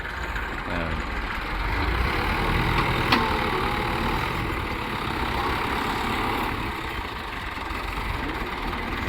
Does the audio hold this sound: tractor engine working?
yes